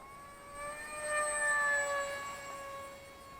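An RC airplane fitted with a Radiolink Byme-D 3-channel flight controller flying at full throttle, a thin high motor whine that swells as it passes closer and fades again, heard alone outdoors.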